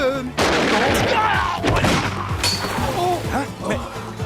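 Cartoon gunfire from an animated French adventure series bursts in loudly after a short pause, followed by continuous clattering, warbling sound effects and a busy animated soundtrack.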